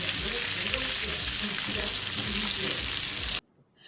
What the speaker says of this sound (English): Sometimes when the salmon cakes are frying, they can begin to crack.